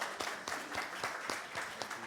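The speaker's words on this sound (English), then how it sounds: "applause to all our panelists" An audience applauds panelists at the close of a South-South cooperation climate resilience capacity-building session, with steady, moderately loud clapping from many hands and no talk.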